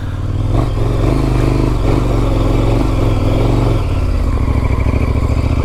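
Big adventure motorcycle on the move, its loud steady engine drone and rumble close up, with wind buffeting and a shift in engine note partway through.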